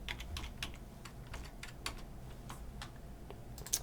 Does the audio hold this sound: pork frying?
no